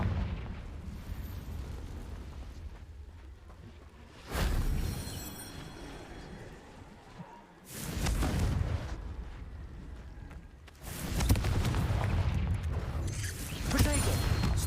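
Three Confringo blasting-spell explosions from a Harry Potter video game, each a loud broadband burst with a rumbling tail. They are spaced a few seconds apart over a steady background of game ambience.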